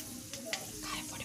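Mustard seeds and curry leaves hit hot coconut oil with fenugreek in a pan for rasam, giving a brief, quiet sizzle with a few sharp crackles and pops.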